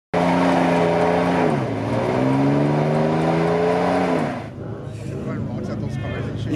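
A Toyota Supra revs hard and squeals its tires at night, a loud sustained wavering engine howl with a falling pitch before it fades, while voices talk excitedly over it.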